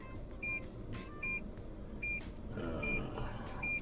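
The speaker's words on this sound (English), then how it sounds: "Let's switch off the sensors so we don't hear that beeping" Lexus GX 460 parking sensor sounds as short, evenly spaced electronic beeps, roughly one every 0.8 seconds, over a steady low engine idle rumble inside the cabin.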